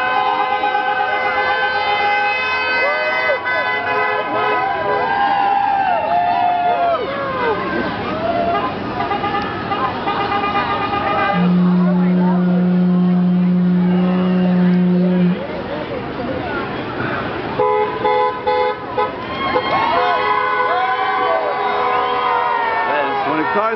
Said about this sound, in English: Come by and beat their horns.